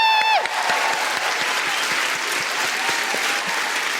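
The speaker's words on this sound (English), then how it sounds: "Give them a big round of applause." An audience at a live comedy podcast show in a Dublin venue claps loudly and densely for about four seconds, a full, even wash of applause from a large crowd, with a brief voice at the start.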